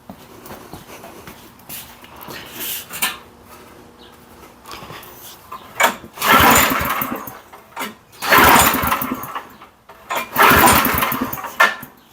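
A garage-find rototiller engine, just rebuilt at the carburetor, is pulled over several times with brief sputters, then catches and runs in loud surging bursts before settling, close by, with no talk.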